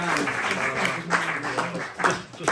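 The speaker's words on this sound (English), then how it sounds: "give a big round of applause to Niall McGuirk." Audience applause at a talk held at the Seamus Ennis Centre in Naul, a dense burst of clapping from a crowd that fills the whole short stretch, fairly loud and close.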